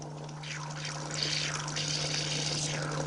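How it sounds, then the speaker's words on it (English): Water gushes from an opened boiler drain, a rushing splash that swells in strength after the first second over a steady low electrical hum. "What we're going to do is open the boiler drain,"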